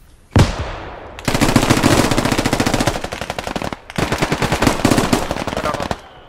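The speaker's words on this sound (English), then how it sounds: "यार मेरे साथ झोपड़ी से बैठ के shooting करी जा रहा।" Bursts of automatic gunfire in a squad-based shooter video game, one sharp shot followed by two long, loud sustained machine-gun volleys with a short gap between them, no talk.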